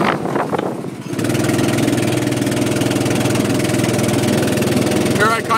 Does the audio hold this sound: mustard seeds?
no